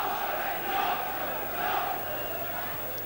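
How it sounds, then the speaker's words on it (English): Rugby league crowd at a Warrington versus Leeds Regal Trophy match, a steady roar of cheering and chanting that rises in a couple of swells at moderate distance. "Good crowd supporting"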